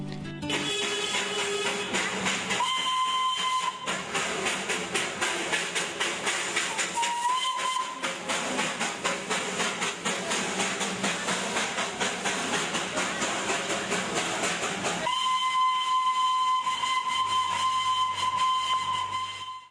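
A heritage steam toy train whistle in Kurseong sounds in short blasts, then one long sustained blow, over a steady roaring hiss of the moving train.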